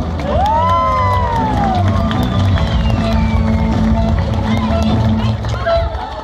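Guests at a graduation entrance applaud and cheer loudly for a graduate as steady clapping runs under whoops and shouts, with a crowd and voices close by and music in the background.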